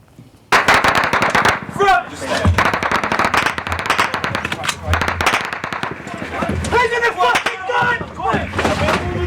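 Rapid bursts of gunfire crack out at a firing point in Afghanistan, loud dense volleys of shots with shouting voices over and between them.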